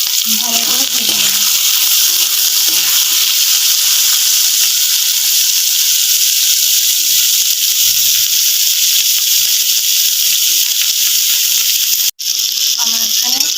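A pan of chopped green chilli, carrot, potato and beans fries for pasta, giving a loud, steady hiss that carries on almost unbroken, with faint voices in the background.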